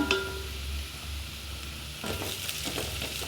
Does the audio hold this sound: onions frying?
yes